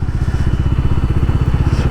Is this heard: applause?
no